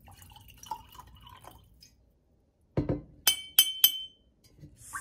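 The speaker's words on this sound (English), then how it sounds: "We'll keep adding water to this one too." Water trickles into a glass cup, with a soft pour, then a sharp splash and several crisp glassy clinks close by in a quiet setting.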